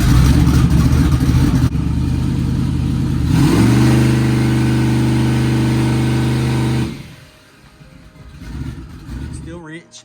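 A twin-turbo car engine on nitrous revs hard, its tone climbing and holding as a loud, steady buzzing scream for several seconds before cutting off abruptly to a quieter idle with some background noise afterward.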